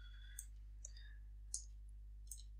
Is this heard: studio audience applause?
no